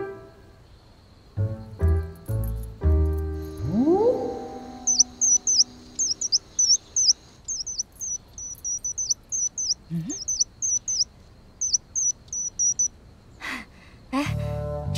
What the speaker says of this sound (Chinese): 哪来的杜鹃啊，叫得真动听。